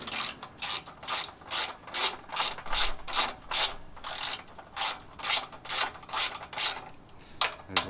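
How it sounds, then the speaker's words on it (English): Ratchet with a 10mm socket and extension loosening bolts on a pressure washer, a quick run of rhythmic clicking strokes, about two per second, close and fairly quiet with no talk. "what you're going to need for this now is a 10mm socket, little extension bar, and then your ratchet"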